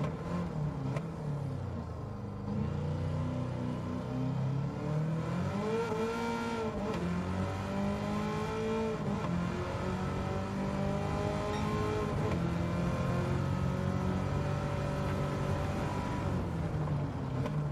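A Chevrolet race car in Gran Turismo 7 holds a steady, loud engine drone that climbs and falls in pitch as it revs through gears, running continuously with no talk.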